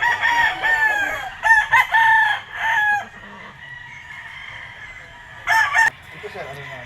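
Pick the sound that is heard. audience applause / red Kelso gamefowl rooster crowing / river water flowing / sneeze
red Kelso gamefowl rooster crowing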